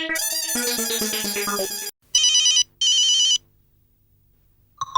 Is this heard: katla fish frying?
no